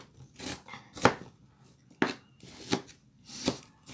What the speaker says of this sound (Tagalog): I need to chop this onion into small pieces